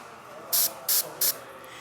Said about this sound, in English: So I'm going to spray little bits of paint on the little nubs right there.